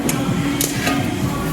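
A body hammer taps on metal during trailer work for a motorcycle project, giving a few sharp, ringing strikes spaced apart over a steady background hum.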